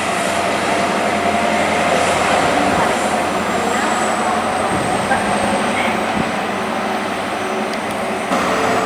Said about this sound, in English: Now departing is the Cornish Riviera from Penzance bound for London Paddington, the class 43 HST set